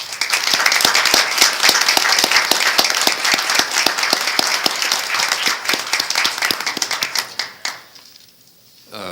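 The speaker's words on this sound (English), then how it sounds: "I think we all owe him a round of applause." A room at a university Board of Regents meeting breaks into a loud, dense round of applause, with sharp claps throughout that fade out quickly near the end.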